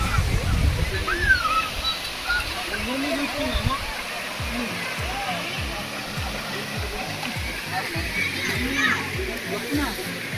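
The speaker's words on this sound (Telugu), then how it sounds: "ఇక్కడ ఈ చిన్న బొక్కల నుండి నీళ్లు ఉబ్బుకొస్తున్నాయి." Water gushes out of small holes in the rocks at a waterfall on the Araku route, a steady broadband rush with splashing that runs continuously, while someone talks over it and rhythmic low thumps come and go.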